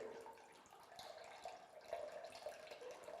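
Dirty rinse water drains steadily out of a paint sprayer during cleaning, a soft, continuous trickling and splashing that stays faint and even throughout, with no voices.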